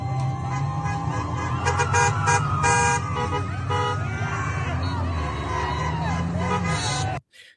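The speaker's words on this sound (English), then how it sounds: "So some parents are at the light right here, while some are sitting here honking." Car horns toot repeatedly in busy traffic at a street light, several overlapping honks over a steady hum of engines and crowd babble, ending abruptly.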